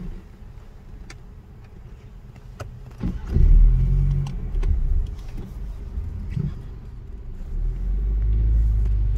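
A car sits idling in Maryland while a technician places a probe under the exhaust pipe for an emissions check; a low engine rumble hums throughout, swelling louder midway and again near the end, with no talk.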